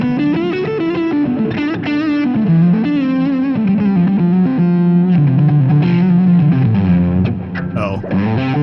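Electric guitar on the neck pickup through a distortion pedal plays a warm, driven melodic lick, fluid and sustained with bends and fast runs toward the end, loud and up close.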